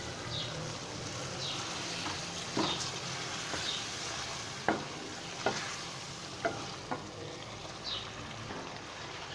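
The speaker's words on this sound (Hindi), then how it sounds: "चिकन हमारा बहुत अच्छे से भुन चुका है। अभी इसमें दही शामिल करते हैं।" Chicken fries in ghee with a soft, steady sizzle as yogurt is added and stirred in, with a handful of sharp scrapes and clinks of the spoon against the pot; no one speaks.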